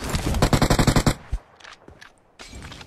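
A rapid burst of automatic gunfire in the video game PUBG Mobile on the Livik map, about ten loud shots in quick succession, followed by a few scattered quieter shots and faint game sounds.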